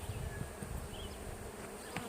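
A dense, continuous buzz of many honey bees close by during a hive inspection, droning steadily without pause.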